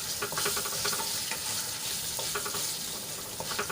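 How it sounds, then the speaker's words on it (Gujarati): Green chilies crackle and sizzle briskly in hot oil, with a spoon scraping and stirring through the popping. "મરચાંને આપણે થોડીવાર માટે તેલમાં સાંતળી લઈશું"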